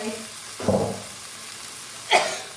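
Pork and bamboo shoots stir-fry with basil and dried chili, a soft sizzle running throughout, and a louder hiss rises twice as splashes of water hit the hot pan.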